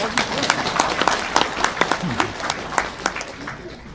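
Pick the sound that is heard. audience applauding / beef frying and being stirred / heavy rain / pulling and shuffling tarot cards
audience applauding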